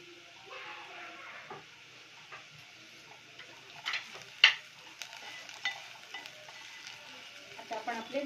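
Onions sauté in oil with a pinch of asafoetida for a traditional Bhogi vegetable dish, a soft, low sizzle broken by occasional spoon scrapes and small clicks.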